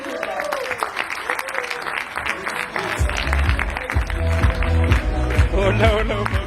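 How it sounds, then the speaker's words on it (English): Applause and crowd noise fill a large Crowd1 corporate event hall as Mr. Peter is called back to the stage, with music rising underneath and voices over the clapping. "So a big round of applause for Mr. Peter."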